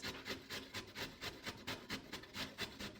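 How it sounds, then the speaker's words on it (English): Peeled carrots being grated by hand, a quiet, even run of rhythmic rasping strokes, roughly three or four scrapes a second, close by and with no talking. "Let's get ready to grate our carrots."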